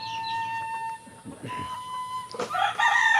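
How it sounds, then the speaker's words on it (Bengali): Day-old Fayoumi farm chicks chirp in a brooding setup, with thin high peeps clustering louder toward the end over a steady background hum and a few soft knocks. "আর এটি হলো আমাদের একদিনের ফার্ম মুরগির বাচ্চা।"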